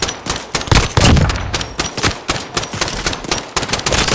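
Gunfire in Call of Duty Modern Warfare Search and Destroy, loud close bursts of rapid shots with brief gaps, sharp repeated cracks running through the whole stretch.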